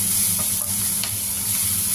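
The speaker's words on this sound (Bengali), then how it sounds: "এবার মশলাটাকে একটু ভালো করে কষিয়ে নিব" Ground turmeric, red chilli and cumin frying in a pan, a steady close hiss of sizzling with faint scraping of a stirring spoon over a couple of seconds.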